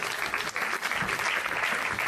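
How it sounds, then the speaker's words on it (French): Steady applause from an audience at a film premiere, dense clapping filling the whole stretch without pause, with a murmur of voices faintly underneath. "Faut applaudir notre top"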